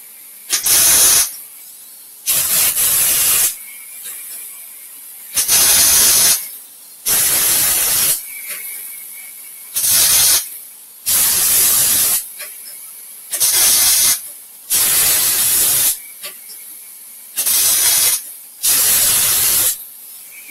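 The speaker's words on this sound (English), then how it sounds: "I got the heat turned all the way up on this welder" Welder turned up to full heat while chopping the top on a Ford F1, giving about nine loud, even hissing bursts, each roughly a second long, separated by short quiet gaps.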